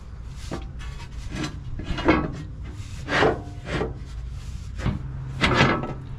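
A light metal skid plate slides into place beneath a 2020 Toyota 4Runner TRD Pro, a fifth-generation truck, making several rough scraping rubs with short pauses between them, close by.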